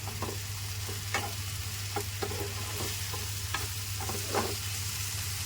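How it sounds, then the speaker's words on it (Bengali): Tomato paste sizzling in a pan as a spatula scrapes and stirs it in repeated short strokes, over a steady low hum; no talking. "এবারে টমেটো পেস্টটাকে দিয়েও ভালো করে কষিয়ে নিব"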